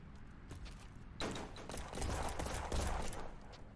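Faint bursts of rapid gunfire crackle in the video game Black Skylands: Origins, clusters of shots repeating over a few seconds at a distance, with no talking.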